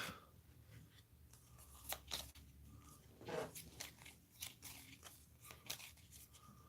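Playing cards shuffled by hand during a solo card game: quiet, scattered snaps and short crackling riffles come in irregular bursts, close to the listener.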